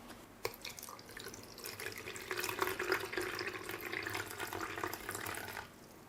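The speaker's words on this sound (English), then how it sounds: "So let's get some water and fill it up." Tap water pours into the tank of a 300 ml essential oil diffuser, a steady close splashing and trickling stream that builds and then stops, with no talk.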